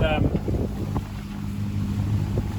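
A sailboat motors through rough seas with its engine running, a dense low rumble mixed with wind buffeting and wave wash. A voice is briefly heard over the noise near the start.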